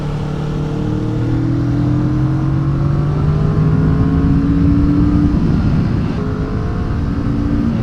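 A Kawasaki Vulcan S motorcycle with a Ninja 650-derived parallel-twin engine roars loudly while being ridden, its pitch climbing steadily through revs with a brief dip as it shifts and pulls again, with strong wind rush.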